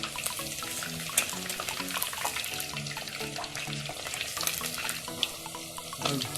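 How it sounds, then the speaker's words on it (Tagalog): Chicken wings frying in hot oil, a dense, steady sizzle and crackle heard close by, with faint tones in the background and no one speaking. "yung ingay nung pagpiprito niya ay humina na"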